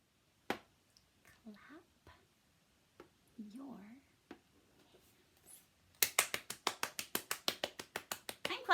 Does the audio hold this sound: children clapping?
yes